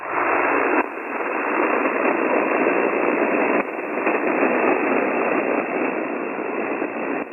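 Weak ham radio signal on a mobile HF station with a Hamstick antenna, buried in a steady, band-limited hiss of static that runs loud and continuous, with no intelligible voice coming through.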